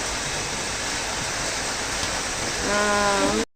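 A swollen stream rushes and falls with a dense, steady roar close by, continuous throughout, with a short voice breaking in near the end.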